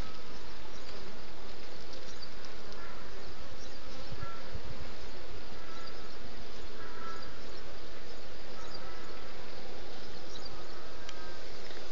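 Honey bees at an opened hive during citrus season, a hive in swarming condition: a dense, continuous buzzing drone from many bees close by, steady and loud throughout with no talk.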